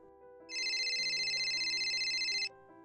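A phone rings with a steady, high electronic ringtone lasting about two seconds, fairly quiet, over a soft background hum.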